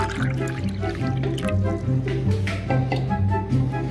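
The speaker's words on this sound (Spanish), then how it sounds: "vamos a ir mezclando con nuestras manitos y vamos a ir incorporando el agua" Hands squish and knead water into sensory dough made with oil, producing wet, soft slapping and squelching sounds in a steady rhythm at close range.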